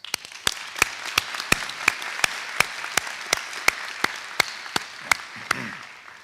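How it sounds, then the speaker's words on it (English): Graduation audience applause at a dental medicine school ceremony, with sparse, evenly spaced sharp claps standing out close by over a softer wash of distant clapping that fades near the end. "Another round of applause"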